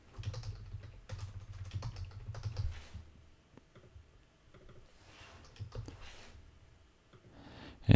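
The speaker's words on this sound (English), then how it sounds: "let's go ahead and start typing in here" Rapid typing on a computer keyboard while entering database records, soft close clicking in bursts separated by short pauses, with no talk.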